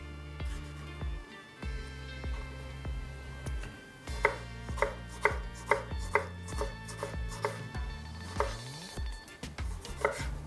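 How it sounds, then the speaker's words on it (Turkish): A knife chops tomatoes into small pieces on a board, with a run of crisp, evenly spaced taps close by over a humming electronic background tone, then a few slower cuts. "Domateslerimi küçük doğrayacağım."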